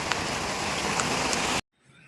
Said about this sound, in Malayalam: മഴ ആയതുകൊണ്ട് വണ്ടീൻ്റെ ഉള്ളിൽ നിന്നാണ് എടുക്കേണ്ടത്